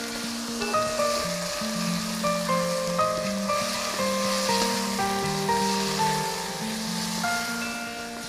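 Paneer and prawns fry in a pan with a steady, hissing sizzle that sits beneath prominent background music throughout.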